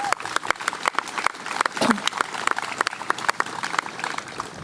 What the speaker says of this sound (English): Let us give them all a hand of applause.